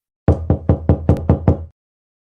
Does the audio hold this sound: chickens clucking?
no